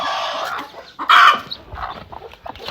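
Desi country chickens on a village farm, a hen sitting with a newly hatched chick, give a loud burst of clucking and squawking that peaks briefly, then trails into softer scattered clucks and background bird sounds.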